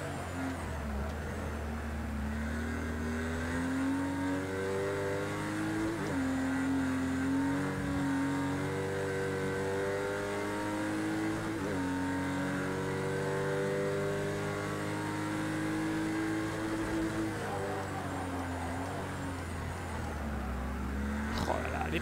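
Race car engine in the Project CARS 2 racing game, a steady droning roar with rising and falling pitch as it accelerates and lifts through corners, loud and continuous with a commentator talking over it.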